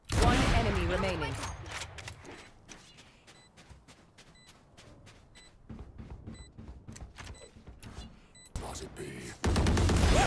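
Video game gunfire rattles in quick sharp bursts and single cracks, loud at the start and end with scattered shots between, alongside faint in-game beeps.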